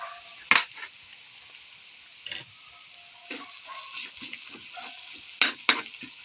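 Ground chicken frying in a pan with a sizzle, stirred with sharp scrapes and clatters of a utensil, for a savory vegetable spring-roll filling; moderately close, no talking.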